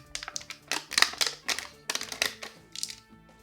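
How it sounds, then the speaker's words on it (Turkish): Dull scissors make a series of sharp snips and crunching cuts through a thin plastic cup near its rim, irregular and close, with short pauses between cuts. "Başka bir plastik bardağı ise şöyle ağzına yakın yerden buradan keselim."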